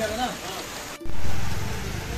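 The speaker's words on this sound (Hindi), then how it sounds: "बारिश बहुत ज़्यादा हो रही है, आप देख सकते हो" Heavy rain falls steadily in the hills around Mussoorie, a dense hiss that swells briefly after a short gap, with a voice speaking over the downpour.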